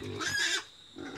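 A farm pig squeals sharply as a young man struggles to catch it in a small home pen, one loud high-pitched cry that breaks off and then starts again, with no talk over it.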